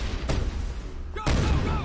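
Gunfire breaking out in a Mass Effect Legendary Edition firefight, a sharp crack followed by a sustained loud burst of shots close by.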